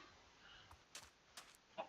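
Minecraft chickens cluck faintly in short soft bursts against a quiet farm background, a few brief clucks spaced irregularly.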